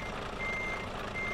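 Steady electronic reversing beeps from a lorry in the Euro Truck Simulator 2 game, a continuous high-pitched pulsing tone over low engine rumble, moderately loud with no talking.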